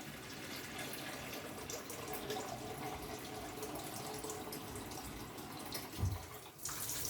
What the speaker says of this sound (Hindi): ये रहा इसमें 1/2 मग और मैंने पानी का ऐड कर दिया है